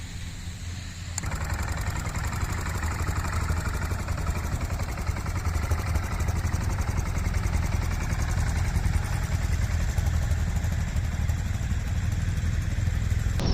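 A motorcycle engine runs steadily throughout an off-road riding exercise on a cold, rainy day, a close, continuous mid-pitched drone with a rough clattering texture and no clear speech.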